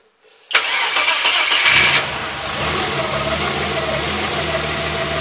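A Renault 5 Maxi replica's engine cranks and fires with a sudden loud catch, briefly surges, then settles into a steady, rough close-up idle.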